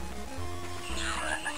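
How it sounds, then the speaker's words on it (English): Frogs croak in a Game Boy Advance game, a dense low chorus of rough calls laid over looping game music, fairly loud and continuous, with brighter chirping tones rising toward the end. "I'm gonna die by frogs."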